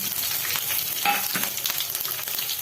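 Cumin and fenugreek seeds crackle and sizzle in hot oil for a Gujarati curry, a steady close hiss dotted with tiny pops and a brief stir.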